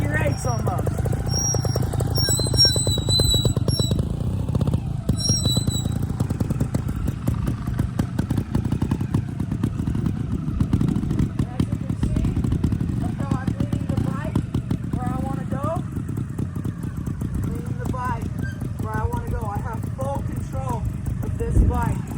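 A motorcycle is ridden in slow figure eights while turning, its engine running steadily and nearby throughout, with occasional chirps and squeaks and talking over the top.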